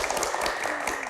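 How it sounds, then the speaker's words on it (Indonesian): Studio audience of university students claps in a dense, continuous burst of applause at a television Q&A show. "Tepuk tangannya mana?"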